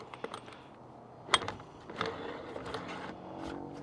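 A gas string trimmer head on a VEVOR 4-in-1 compact trimmer is threaded back on counterclockwise by hand, producing scattered small plastic clicks and ratcheting ticks with one sharper snap near the middle, close up and fairly quiet.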